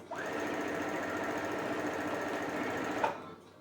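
A Brother CS6000i computer sewing machine runs in one steady, continuous whirring burst of stitching for about three seconds, then stops with a small click. It plays alone and close, with no voices.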